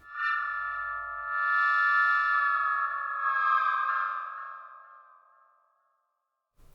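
A Whirly Tube synthesizer preset plays a sustained, warbling tonal sweep with rich harmonics and echoey effects. It swells, shifts in pitch, then fades out slowly, alone and with no voice.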